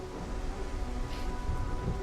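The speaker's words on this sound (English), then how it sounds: "I really like that it's raining here" Steady rain with rumbling thunder in the Starfield video game on PS5, a dense, continuous wash of sound with no voices.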